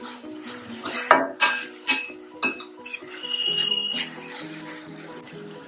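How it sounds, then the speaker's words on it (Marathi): Wild monsoon greens (ranbhaji, tarota) with onions are tossed in a pan, giving several sharp metallic clinks of the spoon against the pan, then a softer steady sizzle. "ही भाजी या कांद्यामध्ये छान परतवून घ्यायची आहे."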